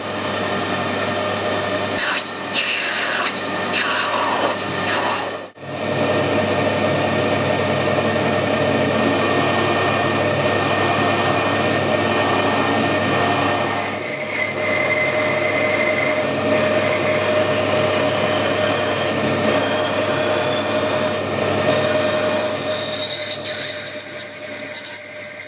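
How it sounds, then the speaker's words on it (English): Lathe drilling an Acme nut out to 10mm, a steady continuous grinding, rasping machine roar with a broad hum, briefly cutting out near the start then resuming and running to the end, close and loud with no talking. "Right, I've drilled that out to 10mm."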